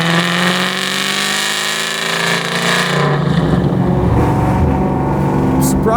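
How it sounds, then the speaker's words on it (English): A supercharged 1000hp Ford Terminator Cobra engine with a Whipple blower drones loudly and steadily, its pitch shifting partway through as it keeps running close by. "The car sounds nice."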